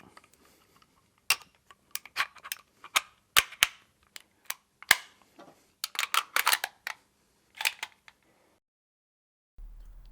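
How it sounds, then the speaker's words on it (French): The slide of an HK P7 pistol is refitted, pulled back and released, giving a run of sharp metallic clicks and clacks at close range in an otherwise quiet room. "on remet la culasse dessus, on la tire en arrière et on la rabaisse dès que possible"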